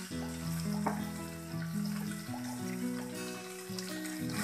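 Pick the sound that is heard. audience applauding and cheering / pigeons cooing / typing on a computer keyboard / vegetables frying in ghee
vegetables frying in ghee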